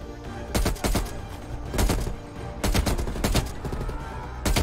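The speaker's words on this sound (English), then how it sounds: "Man, this gun kicks." Bursts of automatic gunfire from a rifle in Black Ops Cold War, loud and close, fired in several separate rapid strings with short gaps between them.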